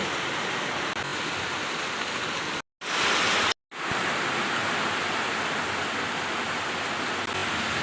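Dense, steady downpour hissing continuously, with a short break and a loud burst in the middle before the heavy rain resumes.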